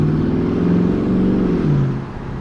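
A straight-piped Audi S7 engine revving loudly and close up, a deep droning exhaust note that rises and holds, then drops in pitch as the revs fall near the end.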